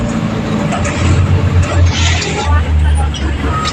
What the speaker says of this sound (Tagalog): Nakasakay na min ng jeep.